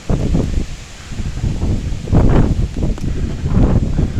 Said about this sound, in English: It's getting really windy, guys.